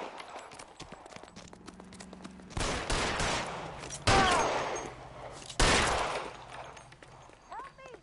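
Gunfire in the video game L.A. Noire: three loud, sharp shots spaced a second or two apart, each with a ringing decay, over a quiet backdrop with faint hoofbeat-like clatter.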